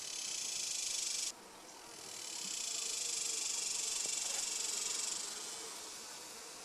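Honey bees buzzing around an open hive with a honey-filled top box, a soft continuous drone of many wings that swells and fades gently, steady and alone.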